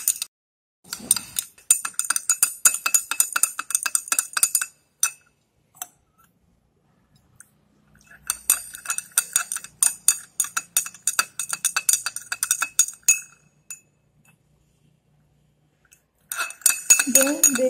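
Bursts of rapid glassy clinking and ticking come from glassware while a magnesium hydroxide suspension is mixed into a magnesium sulfate mixture, separated by silent pauses.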